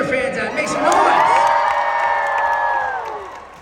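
A convention crowd gathered for the Demon Slayer voice cast cheers and whoops loudly for several seconds, forming a dense wall of shouting with high-pitched screams rising above it.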